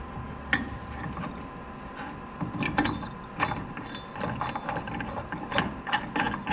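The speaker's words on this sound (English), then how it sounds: "I guess we'll just hand tighten it again" A bolt being turned by hand while a back rack is installed on a 2021 Chevy 2500 HD Duramax pickup truck, giving soft metallic clicks, scrapes and rattles that come and go close by.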